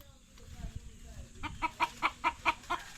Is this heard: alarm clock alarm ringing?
no